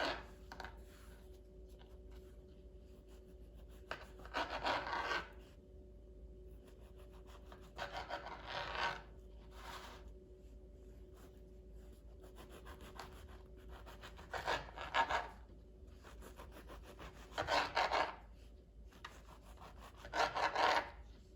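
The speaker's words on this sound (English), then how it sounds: "First step is we need to cut bread into cubes. I'm just going to do it several slices at a time." A knife sawing through several stacked bread slices to make cubes: soft, scratchy rasping strokes in short bursts every few seconds, faint and close, separated by quiet pauses with no talking.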